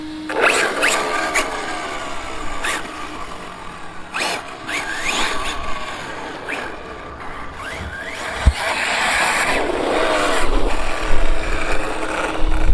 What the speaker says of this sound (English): if you come around this side, Colin, is just the case hitting the wheel there